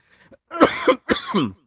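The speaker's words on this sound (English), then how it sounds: "I have a coughing fit." Two rough, harsh coughs in quick succession, close and loud, after a faint catch of breath.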